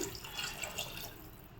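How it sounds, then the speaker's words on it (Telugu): Water pours and trickles briefly into a pan of eggplant curry with spices, faint and close, a soft liquid splash with slight dripping. "కొంచెం వాటర్ పోసుకుందాము"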